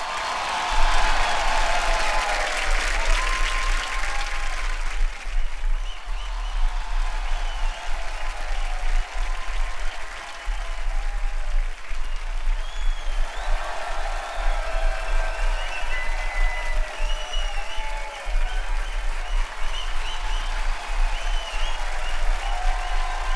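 Studio audience on a Hindi comedy show applauds steadily for the entrance of actor Jackie Shroff, a dense, sustained clapping wash that runs loud throughout, swelling briefly near the start and again midway.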